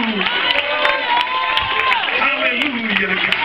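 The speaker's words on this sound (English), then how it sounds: "clap your hands and shout hallelujah" A church congregation claps and shouts hallelujah together, a dense, loud crowd roar with sharp hand claps and overlapping voices throughout.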